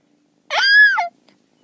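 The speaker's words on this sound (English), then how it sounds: "Now the cat is going to attack me." A cat lets out one clear, close meow, a short rising and falling cry of about half a second set against near silence.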